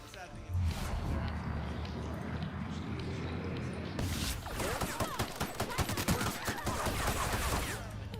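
Pistol gunfire in the video game The Outer Worlds, a rapid string of sharp shots crackling through the second half after a quieter stretch, loud and close, with a voice talking over it.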